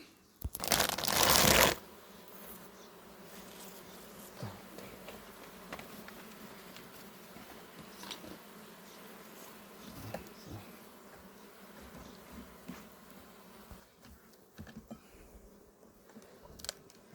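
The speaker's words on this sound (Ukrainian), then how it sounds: "бачимо, бджілки носять пилок" Bees buzz around a hive while carrying pollen, making a faint, steady hum close by. A short burst of rustling clatter comes at the start, with scattered small knocks later.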